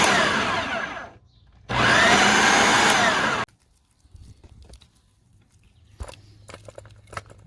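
A kitchen blender grinds garlic cloves and fire-roasted vegetables for salsa, two loud whirring bursts separated by a short pause, followed by quieter clinks and handling sounds.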